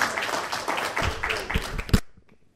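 Seminar audience claps to welcome a speaker to the stage: a dense, fairly close patter of many hands with scattered louder claps, stopping abruptly near the end and leaving a faint tail.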